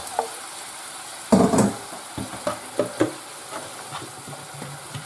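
Potatoes tipped into a pan of lightly cooked sofrito, for a potato stew with saffron milk cap mushrooms, cuttlefish and clams, land with a loud burst of sizzling, then fry steadily with a few scraping stirs nearby.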